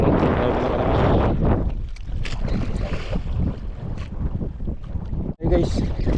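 Strong wind roars steadily across the microphone while jig fishing, buffeting loudly with gusts, over faint water and a voice in the background.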